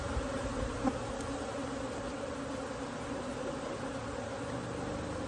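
Honey bees buzz steadily in a dense, continuous drone around a queen held in a queen clip at a hive, the hum even and unbroken throughout without any voices.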